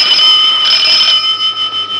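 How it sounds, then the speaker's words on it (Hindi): A telephone bell rings in a home in the 1969 film Aadmi Aur Insaan, a bright, steady metallic trill that sounds loudly and then fades into shorter pulses. "फोन की घंटी बजी।"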